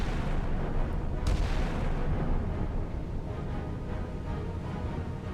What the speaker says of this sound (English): one shell. From a 5-inch gun should be able to take him out